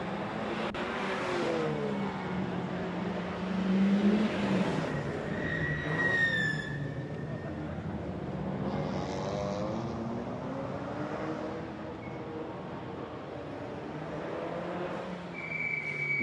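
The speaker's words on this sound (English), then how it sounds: "Lotus Elise, I think that is as well, heading into the 3rd turn" Lotus Elise race car passing on a track, a steady engine drone rising and falling as it moves through a turn, moderately distant with crowd and ambient noise around it.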